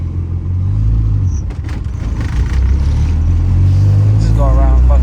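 A turbocharged B16-powered Honda Civic on the move, its engine droning low and steady with a brief dip and rise in the revs, while someone talks over it.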